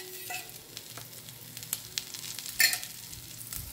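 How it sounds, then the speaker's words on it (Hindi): Kingfish cutlets fry in hot oil in a pan, giving a steady close sizzle with scattered crackles and a few louder pops, heard alone without talk. "अब इसे ना हमें दोनों साइड ना बढ़िया सा गोल्डन कलर आने तक हमें इसे फ्राई करना है"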